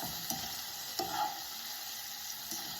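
Pasta for aglio olio e peperoncino sautés in a pan, a soft, steady sizzle broken by a few light clinks and scrapes of a utensil, fairly close and without talk.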